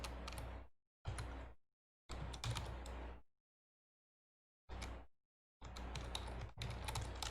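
Computer keyboard keys clatter in short bursts of rapid typing separated by silent pauses, close and clear, with no talking.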